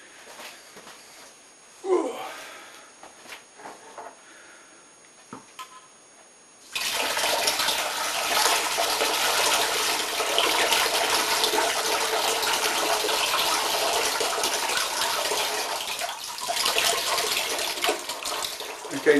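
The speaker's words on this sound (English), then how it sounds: "Okay, let's get pouring." Hot tea is poured through a strainer into a jug for kombucha, with a few clinks and handling noises first, then a sudden steady gushing stream of liquid that runs on without a break.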